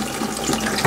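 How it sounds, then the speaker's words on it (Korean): Tap water runs briefly and steadily into a bottle at a kitchen sink, close and fairly loud, with no talking. "물을 채우고요"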